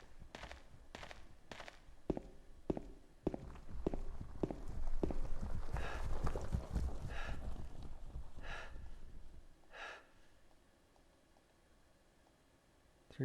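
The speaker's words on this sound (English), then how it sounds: "sound of like horses running around" Horses galloping in the video game Silent Hill 2, a run of hollow hoofbeat clip-clops that swell into a dense rumble before tapering to scattered hits, moderately loud with no talking.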